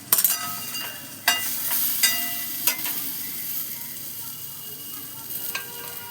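Raw tamarind fries in a pan with a continuous soft sizzle, and a few sharp clinks and stirring scrapes break through at close range.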